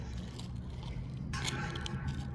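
Dry, extra-crunchy fallen leaves crushed under a shoe, giving a close, crisp crackling crunch with a brighter burst midway through and no talk.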